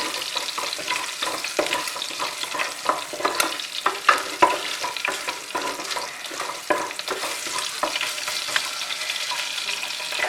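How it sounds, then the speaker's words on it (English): Three garlic cloves stir-fried in a pan for a meat madras: steady close sizzling with frequent scraping stirs, continuous for about ten seconds, no voices. "Just give a stir fry, and then we'll add these green chilies."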